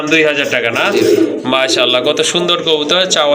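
Rajgolla pigeons coo in low, throaty bursts while someone talks loudly over them, close by.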